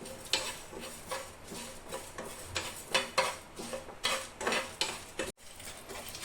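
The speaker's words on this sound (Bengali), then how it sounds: "আমি একসাথে ভেজে নেব। তো আমি এভাবে ভেজে নিব সব একসাথে।" Whole spices, fennel seeds, whole garam masala and dried red chillies, are dry-roasted in a pan, with repeated scraping stir strokes and light rattling at a quick, uneven rhythm, close and fairly quiet.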